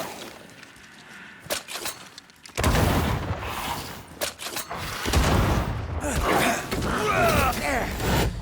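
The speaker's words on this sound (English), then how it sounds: "That corpse is gonna shoot." Gunfire from a corpse enemy in Banishers: Ghosts of New Eden cracks out as several sharp shots and bursts, followed by heavy rumbling impacts and shattering noises, with a voice speaking amid the fight.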